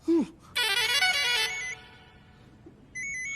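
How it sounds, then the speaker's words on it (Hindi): A telephone rings with a bright electronic trill, loud and close, preceded by a short chirp and followed by a quieter repeated beep. "जब भी आधी रात में फोन बजता है"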